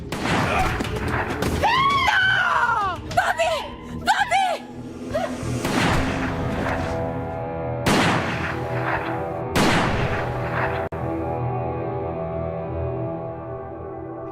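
Gunshots ring out during a dispute, with several sharp loud bangs that echo and die away amid frantic screaming and shouting voices, followed by lingering reverberation.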